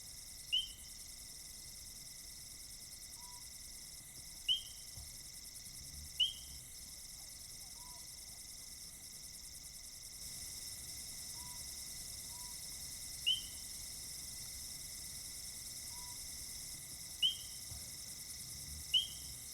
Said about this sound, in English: You can hear the high-pitched calling of the painted reed frog in the background